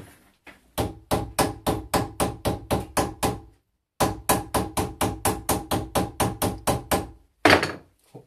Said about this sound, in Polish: Pukać młotkiem.